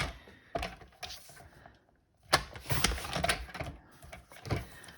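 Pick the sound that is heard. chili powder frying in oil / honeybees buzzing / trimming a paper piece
trimming a paper piece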